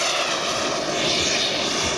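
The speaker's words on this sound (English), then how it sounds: "So these jet engines that are in these aircraft, they are the same sort of engine as you would get in a civilian jet aircraft" A giant 1/3 scale RC L-39 Albatros jet powered by a kerosene-burning Beotech 220 turbine roars steadily at an air display, a loud continuous broadband whoosh with no break.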